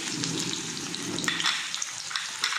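Garlic and onion frying in oil in a pan, an early step in a dried-fish dish, giving a steady close sizzle with bright crackles and pops and no talking.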